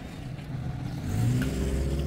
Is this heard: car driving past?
yes